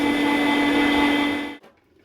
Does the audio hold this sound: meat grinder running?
yes